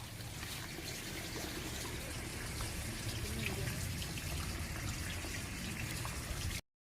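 Water rushes and gurgles continuously inside a borewell with a steady, hollow splashing, loud and close, running unbroken until it cuts off abruptly.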